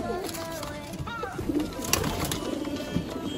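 Soft cooing of Asmani pigeons mixed with other bird calls, steady and close, over a busy background of chatter and rustling.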